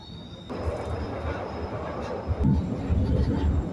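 A Glasgow Subway train rumbles through the tunnel toward Buchanan Street, a low, steady, loud roar of wheels and carriage with a rising surge partway through and a faint high whine above.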